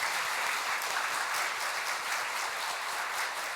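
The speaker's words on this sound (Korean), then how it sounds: "신부님께 다시 한번 사랑의 박수를 보내주시죠" An audience at a church seminar claps warmly, a steady, even wash of many hands applauding together for several seconds, fairly soft and without speech.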